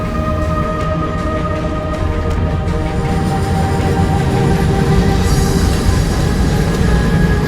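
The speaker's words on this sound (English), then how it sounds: "Each horizon has its own underground railway. Such a train comes 20 kilometers a day." A steady, loud rumbling roar of an underground diamond mine railway train moving through a tunnel, with a constant mechanical drone and faint squealing tones.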